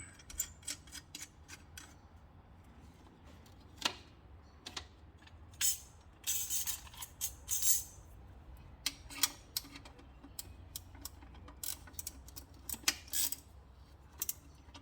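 Bolts being done up while a turbo J pipe is fitted on a Barra engine make faint, irregular metallic clicks and ratcheting bursts in short clusters, close by, with no talk.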